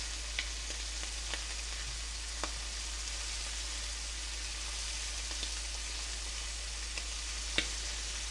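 Shrimp sizzle and fry steadily in a hot pan, a dense continuous crackle with a few sharper pops scattered throughout, close and alone with no talking.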